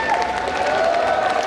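Audience applause and cheering at a Saturday cosplay contest at the Necronomi'con 2023 convention, a dense, sustained wash of clapping from a large hall crowd.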